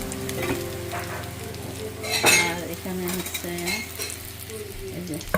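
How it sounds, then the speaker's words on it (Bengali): Fish and shrimp frying together for a home lunch: a continuous sizzle with stirring and the clink of a metal utensil against the pan, close and clear, with a brief voice over it. "এখানে হচ্ছে মাছ ভাজা চিংড়ি ফ্রাই হচ্ছে"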